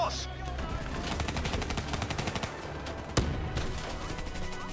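Rapid gunfire from burst weapons in the video game Call of Duty Black Ops 3, a dense run of quick repeated shots with one sharp crack partway through, somewhat faint against a busy battle background.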